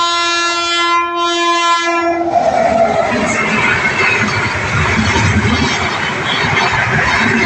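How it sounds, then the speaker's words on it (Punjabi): A train pulls in at a station, its horn sounding loud and close at the start, then wheels and wagons rumble and clatter past steadily at close range. "ਲਓ ਜੀ ਮਿੱਤਰੋ ਆ ਗਈ ਟ੍ਰੇਨ"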